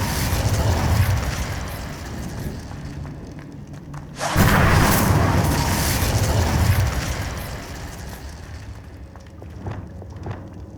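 Incendio fire spell cast in Hogwarts Legacy, a roaring whoosh that swells into a sustained fiery burst partway through, layered over ongoing game ambience and fading slowly.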